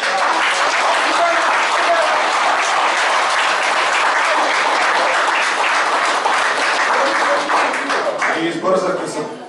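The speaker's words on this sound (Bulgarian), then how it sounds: "Аплодисменти" Sustained applause from a crowd at a municipal council session, dense and steady for several seconds, fading slightly at the end.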